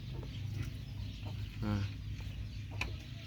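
Chickens and ducks kept loose on a Thai farmyard, giving a few scattered clucks and calls, near but fairly faint against a low background hum.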